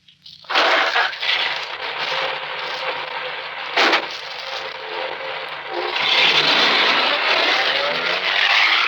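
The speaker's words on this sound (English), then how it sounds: "Start the car." A car starting and driving off as a radio drama effect: a short crank, then a loud, rough engine rumble that carries on close up, with a brief knock midway and a swell as it pulls away.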